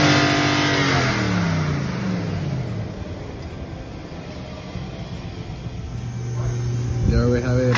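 A 2017 Nissan Titan pickup truck on its stock exhaust revs up, settles to a steady idle rumble, then revs again near the end, loud and close.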